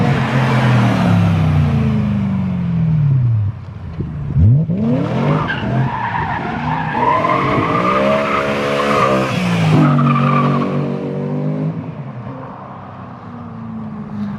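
BMW E92 M3 fitted with a new exhaust passes by at speed, its engine note rising and falling as it approaches and recedes, loud and alone with no talking.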